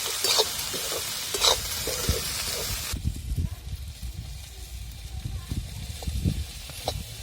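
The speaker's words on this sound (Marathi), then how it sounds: "तर भेंडी चांगली परतून घेतली" Okra frying in spiced masala in a village kitchen, a broad sizzle with stirring scrapes, louder and brighter for the first three seconds, then softer with low clatter.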